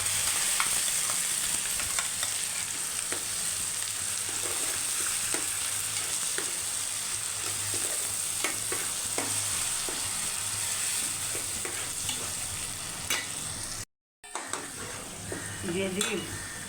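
Ginger, garlic and tomato paste frying in a pan for a fish curry, a continuous even sizzle with light scraping and clinks of stirring, a brief dropout near the end, then more sizzling.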